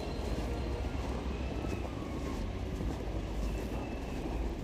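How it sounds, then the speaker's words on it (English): A freight train rolls past on a rail line beside a rail yard in Montreal's Pointe St Charles district, a steady low rumble that fills the whole stretch, close by and loud, with wind buffeting the microphone. "Is that a freight I hear?"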